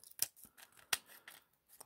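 Scissors snip sharply through packaging while a Joust arcade cabinet ornament is unboxed: two crisp, close cuts with faint rustling between them.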